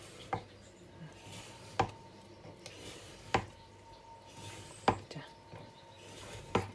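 Sharp knife chops through frozen tilapia land on a board at a slow, even pace, five distinct strikes against a quiet background.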